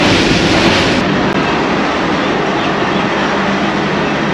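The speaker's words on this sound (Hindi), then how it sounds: "गुजरात रेलवे स्टेशन पहुंची है ट्रेन" A train arriving at a Gujarat railway station rumbles loudly and steadily, heard from the last coach. The roar is broadband and continuous, with no voices.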